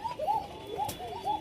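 Bashiraj koka pigeon cooing close by, a few soft rolling coos in quick succession with no other sounds.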